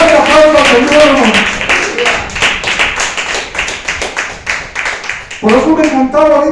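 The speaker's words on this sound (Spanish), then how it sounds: "Fuerte aplauso al Señor," Church congregation clapping during a Spanish-language service, rhythmic hand claps under a preacher's loud, energetic speech that dominates the mix.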